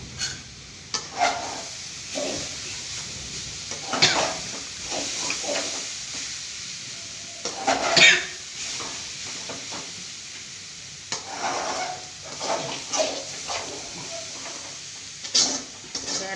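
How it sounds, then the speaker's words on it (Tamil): Soft bubbling and sizzling from a pot of sambar with mango and carrot boiling on the stove, with occasional stirring clinks, steady and close, with faint intermittent speech. "மாங்காய் போட்டுக்க ரெண்டு நிமிஷம் நல்லா கொதிக்கட்டும் குழம்பு நல்லா கொதிக்கட்டும்"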